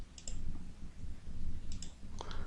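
Sharp mouse clicks while circles are selected in a computer drawing program, a quick pair near the start, another pair later and a final cluster, over a low steady background hum.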